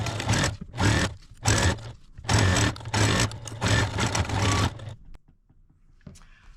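Sewing machine stitches fabric for a jewelry roll in several bursts, a fast mechanical whir that runs for about a second at a time with short pauses, then stops near the end, leaving quiet handling sounds.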